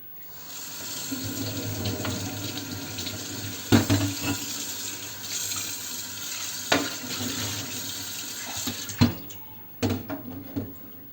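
Water swishes and sloshes inside a kettle being rinsed, with broad running-water wash, steady throughout and punctuated by several sharper splashes and knocks of the kettle, close and alone without talk.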